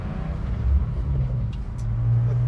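A Porsche 718 Cayman GTS 4.0 is driven, its engine a steady low rumble heard from inside the car that swells slightly toward the end, with no talk.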